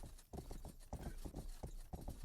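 Horse hooves clop in a steady rhythmic gallop within Grand Theft Auto-style western game Rustler, close and continuous with no talk over them.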